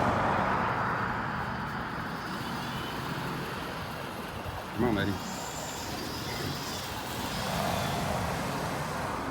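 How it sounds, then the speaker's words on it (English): Steady roar of road traffic with cars passing along a busy street during a long city walk, a continuous loud wash with a brief louder swell near the middle; a person speaks briefly over it. "The traffic. It's loud."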